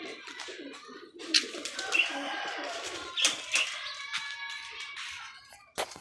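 Pigeons at a pigeon club loft give soft coos with brief flutters and occasional sharp calls, fairly close, over a steady outdoor background with no talk.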